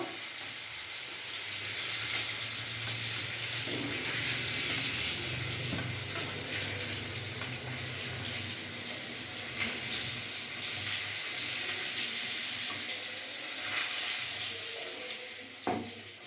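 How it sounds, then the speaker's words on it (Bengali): Pointed gourd (potol) sizzles as it fries in hot oil for a shrimp and potol curry, a steady, fairly loud bubbling hiss that runs evenly throughout with a few faint clinks of stirring. "পটলগুলো আমার খুব সুন্দর করে ভাজা হয়ে গেছে"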